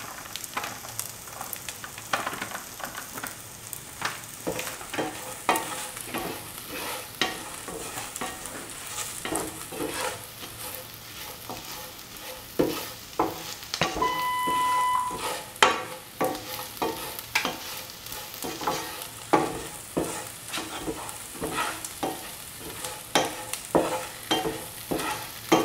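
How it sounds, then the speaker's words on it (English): Spoon scraping and stirring turmeric powder and salt through a dry prawn and green mango stew in a pan, with continuous soft sizzling beneath irregular scrapes and clinks, close up and steady for the whole stretch, no voices. "mix the turmeric powder into the rest of the ingredients and salt"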